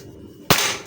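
A Sharp Dragon Super Long air rifle with an upgraded barrel fires one sharp, loud crack, preceded by quiet room tone, with a brief ringing tail afterward.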